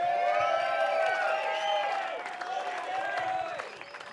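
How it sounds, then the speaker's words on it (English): Crowd applause and cheering at a BMX pro cup world championship awards ceremony, a loud sustained roar of clapping and whoops that gradually fades near the end. "Keep that round of applause going"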